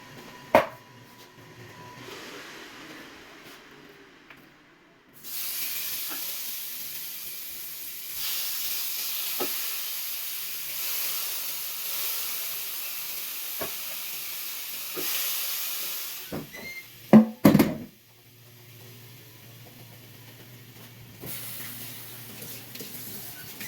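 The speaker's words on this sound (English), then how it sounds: "So we have all these chops seasoned and we're going to throw them on the grill." Seasoned pork chops hit a hot Ninja Foodi grill and set off a steady, fairly loud hissing sizzle that runs for several seconds. It is broken by a few clanks and bumps and then drops back to a quieter hum.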